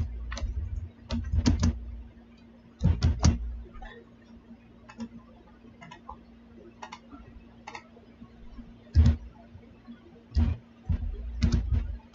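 Computer keyboard keys tapped while writing a word in CorelDraw: scattered clusters of close, crisp clicks with short pauses between bursts, set against a faint steady hum, with no talking.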